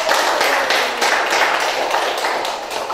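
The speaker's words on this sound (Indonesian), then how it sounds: "tepuk tangan buat Mas untuk" Classmates in a classroom applaud a student, a dense burst of hand clapping close and loud, running steadily for about three seconds without talk.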